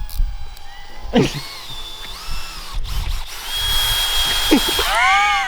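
A power drill runs in whining bursts while unscrewing bolts from a car's belly pan under a Whipple supercharger job, with rising and falling motor tones and a longer steady run near the end, close and fairly loud.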